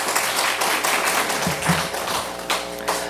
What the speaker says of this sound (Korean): 환영하면서 박수하겠습니다